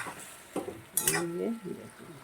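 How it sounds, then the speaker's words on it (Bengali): Cauliflower and potatoes frying with spices and salt in a pan, heard as short scraping stirs and clinks of a utensil over a soft sizzle, close and moderately loud. "মশলার সঙ্গে ফুলকপি আলুটা ভালো করে ভেজে নিচ্ছি"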